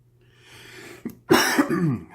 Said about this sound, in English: Excuse me, coughing, guys.